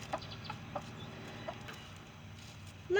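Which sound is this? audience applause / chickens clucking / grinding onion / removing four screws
chickens clucking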